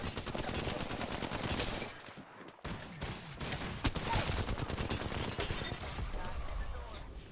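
Bursts of rapid automatic gunfire in a first-person shooter game, dense and sustained with short pauses, fairly quiet overall and mixed with game effects.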